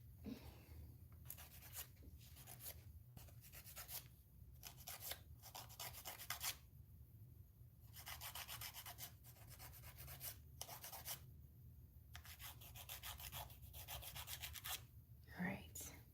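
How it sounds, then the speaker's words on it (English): Fingernails being filed in quiet, soft raspy strokes in bursts of several seconds separated by brief pauses, close and faint against a low background hum. "They must have heard me sawing my nails."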